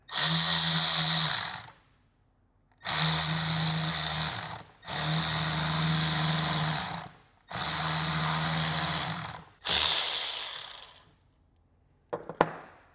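A power crimping tool presses a clamp onto Range Rover front suspension parts in four or five sustained, loud whirring runs, each lasting over a second with short pauses, ending in a sharp metallic clack.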